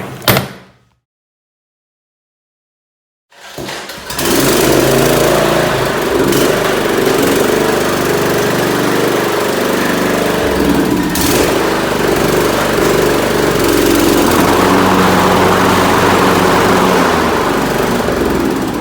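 Craftsman T1000 riding lawn mower with freshly sharpened blades, whose engine starts after a brief silence and then runs steadily and loudly close by, a constant mechanical drone with slight fluctuations and no talking.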